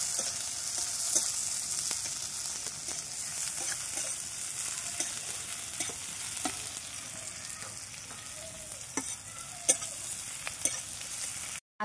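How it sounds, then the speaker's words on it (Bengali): Chopped onion fries in hot oil, browning for a greens stir-fry, giving a constant close sizzle broken by repeated clinks and scrapes of a spatula stirring the pan. "দিয়ে ভালোভাবে ভাজা ভাজা করে নেব"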